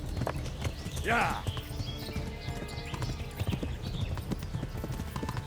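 Horse hooves clip-clopping in the medieval game Kingdom Come: Deliverance, a steady close trot with a short whinny early on, while someone talks and exclaims over it.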